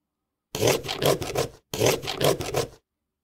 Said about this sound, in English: And that's the sound of cutting a pumpkin.